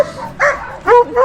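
Excited dogs yip and bark close by before a canicross run, several short eager barks and whimpers in quick succession.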